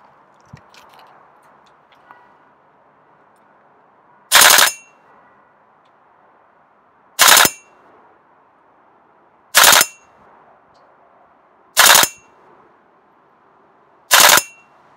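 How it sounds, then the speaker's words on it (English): An airsoft GBLS DAS GDR15 rifle fires five short full-auto bursts at a target 50 metres away, each a sharp loud rattling blast spaced a few seconds apart against quiet outdoor ambience. "Okay, so Phil, we just did your full auto burst"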